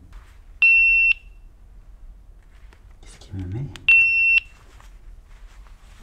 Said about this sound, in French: C'est une alarme de carte SD.